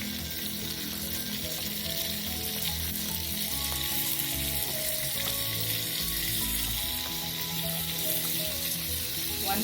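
Butter melting and sizzling in a small vessel for tempering, a continuous moderately loud crackling fry with faint stirring clinks and no talk.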